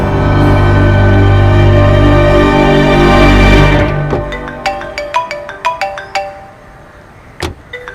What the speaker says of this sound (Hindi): देव को कॉल करती हूँ।